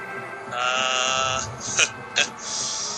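Donkey-like braying and bleating from creatures in a bog in the video game Final Fantasy XII, a sustained harmonic call followed by two short sharp calls, with a voice talking over the game.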